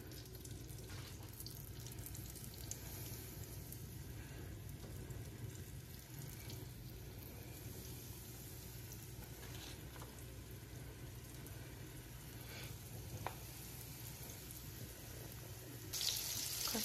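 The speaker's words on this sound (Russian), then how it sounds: "Котлета уже жарится." Quiet, continuous sizzle of a breaded cutlet frying in a heated pan, a soft hissing that holds steady with occasional faint pops.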